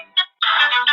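A short electronic notification chime during a live stream, a brief tone followed by a longer warbling sequence, close and clear with no talk.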